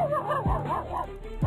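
Dogs barking and yipping in quick repeated bursts with whimpering, loud and close, over a steady background hum.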